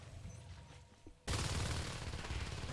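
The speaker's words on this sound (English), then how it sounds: "He's going to unload his pistol" Rapid pistol gunfire in the game Natural Selection 2, a sudden dense burst of shots that starts after a quiet moment and continues loud and steady to the end.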